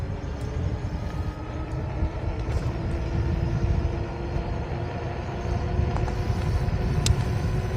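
An Engwe Engine Pro electric bike running at full throttle, rolling on with a steady broadband whir and road rumble that stays constant throughout, with a few faint clicks on top.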